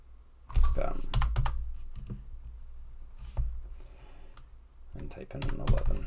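Someone types on a computer keyboard in quick clustered bursts of clicks separated by short pauses, close and clear, with a voice talking over parts of it.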